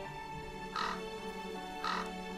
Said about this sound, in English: They are the holy ravens who serve Odin.